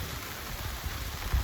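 Rain falling outdoors on a windy, freezing winter morning along the Superior Hiking Trail, a faint continuous hiss of drops with low wind rumble underneath.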